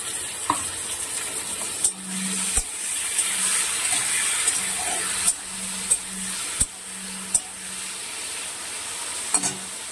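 Tomato, onion and chopped mutton fat fry in a pan with a continuous close sizzle, punctuated by several sharp clicks and knocks of stirring against the pan.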